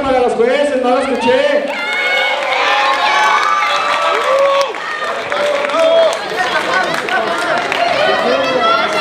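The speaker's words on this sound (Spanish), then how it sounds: "Un fuerte aplauso para los jueces," An audience at a cosplay contest awards ceremony in Guadalajara cheers and shouts for the judges, a loud mass of overlapping excited voices with light clapping, sustained across the clip amid chatter.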